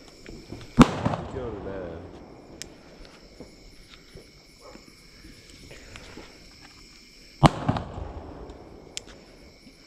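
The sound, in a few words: small firecracker exploding during Deepavali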